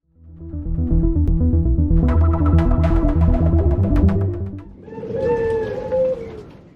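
Close, low repeated cooing from a zebra dove (Bangkok perkutut), layered and continuous, followed by a brighter warbling chirp toward the end.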